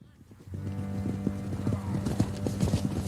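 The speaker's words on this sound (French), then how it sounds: "Un jour, en effet, Sancy le voit quitter le château à cheval avec ses hommes." Horse hooves clop in a quick, steady rhythm as riders leave a castle, a dense close patter of hoofbeats building and continuing throughout without any voices.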